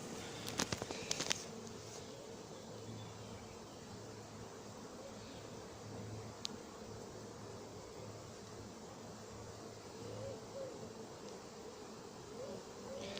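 A dense swarm of honeybees buzzes steadily as it is hived into a box in Montgeron, a soft continuous drone with a few sharp knocks near the start and no talking.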